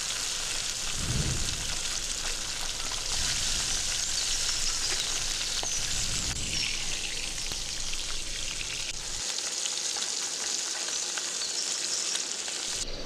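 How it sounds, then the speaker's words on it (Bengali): Small rohu fish sizzle and fry steadily in hot mustard oil in a pan, a dense close crackling that fills the whole stretch without voices, with a few brief stirring bumps. "এরপর মাছগুলো দিয়ে দিচ্ছি তেলটার মধ্যে।"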